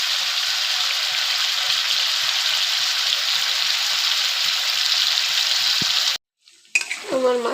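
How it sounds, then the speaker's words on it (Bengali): Fish fat fries in oil in a pan with a loud, steady sizzle and faint stirring taps for about six seconds, then cuts off abruptly before a short clatter of handling noise at the end. "আমার মাছের তেলটা ভাজা হয়ে গেছে"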